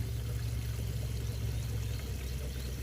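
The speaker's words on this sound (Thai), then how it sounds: "ผมเอาไปเทใส่ที่นาเลยนะครับ เพื่อ ช่วยย่อยสลายเศษตอสัง เศษฟางในนาข้าว" Homemade liquid organic fertilizer pouring steadily into a rice paddy with straw stubble, a continuous low splashing stream heard close and fairly quiet, with no voices.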